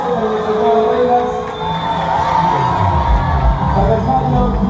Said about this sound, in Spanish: Fuertes aplausos para nuestro juego de reinas.